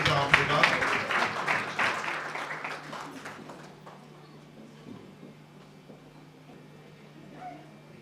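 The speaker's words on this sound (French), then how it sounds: "Je vous prie d'applaudir très fort pour cet artiste" An audience applauds for a singer in a burst of clapping that is loudest at first and fades after about three seconds, with a voice talking alongside.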